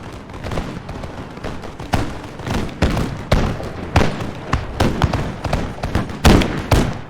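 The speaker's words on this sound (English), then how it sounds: "it seems their infantry could fire 2 ranks deep" Musket volleys from infantry in Total War Empire crackle in rapid, overlapping bursts, a dense battle rattle of sharp shots with frequent heavier cracks and no pauses.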